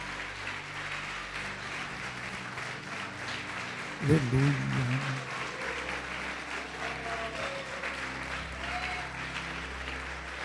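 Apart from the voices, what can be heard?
congregation applauding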